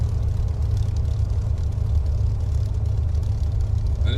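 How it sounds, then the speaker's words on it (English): A Hawker Hurricane Mk1A flies over Lincoln, its piston engine a steady low rumbling drone heard from a distance, constant and unbroken without talk. "And it really does sound like a Hurricane."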